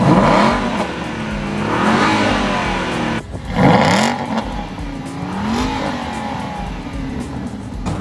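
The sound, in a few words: Aston Martin V8 Vantage engine revving, valves open, sport mode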